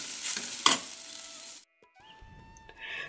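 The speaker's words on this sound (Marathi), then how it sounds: "ज्या कढईमध्ये भेंडी भाजली होती ना त्याच कढईमध्ये बघा मी फोडणी घालायला घेतलेलं आहे" Tempering hitting hot oil in a kadhai used earlier for okra gives a short burst of sizzle and spatter, then cuts out, followed by faint tonal household noises and renewed hiss.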